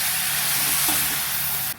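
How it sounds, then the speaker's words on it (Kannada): Chicken frying in a hot tempering for chicken sukka gives a loud, constant sizzle and hiss close up that holds steady before cutting off near the end. "ಕೋರಿ ಪಾರ್ದು ಒಂಚೂರು ಶೋಕು ಕೋರಿ ಒಗ್ಗರಣೆ ಬೇಯೋಡತೆ"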